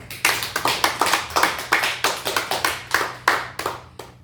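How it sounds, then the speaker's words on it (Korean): A church congregation at a Christmas Eve service claps together in a steady series of sharp, distinct hand claps, fairly close and alone without talk. "우리 같이 크게 박수 한번 합시다"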